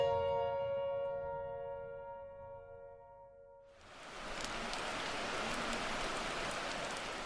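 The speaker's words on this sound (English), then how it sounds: "It's a cool, rainy morning in North Bend." Steady rain on a cool morning at a trailhead parking lot in North Bend, Washington: a broad, even hiss of falling rain that begins abruptly midway and continues alone, close and moderately loud.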